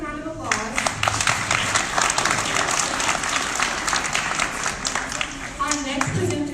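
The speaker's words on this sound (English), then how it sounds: "Let's give them another round of applause." Audience applause at a Tulsa Changemakers pitch night: a full crowd clapping steadily with scattered distinct claps, fairly loud and continuous, with a voice briefly heard at the start and end.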